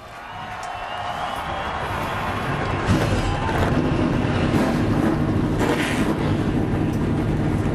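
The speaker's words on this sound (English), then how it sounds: "Let's go down for the command to start engines." NASCAR Nationwide Series race cars fire their engines at O'Reilly Raceway Park, a loud building roar of many engines swelling over wind-buffeted ambience, with sharp revving spikes throughout.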